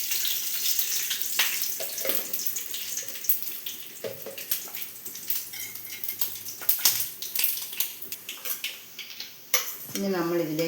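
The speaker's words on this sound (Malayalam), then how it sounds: "നമ്മളിതിലേക്ക് കടുക് ഇട്ട് കൊടുക്കും." Mustard seeds spit and pop in hot oil in a pan, making a scattered run of sharp crackles over a low sizzle, with bursts arriving irregularly and a brief clatter near the end.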